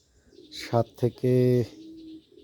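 A golden pigeon in a loft coos close by: two short throaty notes followed by a longer, sustained resonant coo, with quieter murmuring around it.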